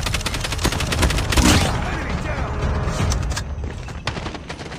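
Loud, rapid automatic gunfire from a video game gun, a dense stream of close shots that breaks into a pause before a few more scattered bursts.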